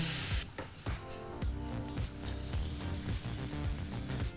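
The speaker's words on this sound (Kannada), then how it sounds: "ಇದನ್ನೆಲ್ಲ ಎಣ್ಣೆಯಲ್ಲಿ ಬಿಸಿ ಮಾಡಿ ಒಂದು ಒಗ್ಗರಣೆಯನ್ನು ಸಾರಿಗೆ ಹಾಕೋಬೇಕಾಗುತ್ತೆ" Garlic, chilli and curry leaves hit hot oil for a tempering, giving a loud crackling sizzle that settles into steady frying with repeated spatters and stirring sounds, no voices over it.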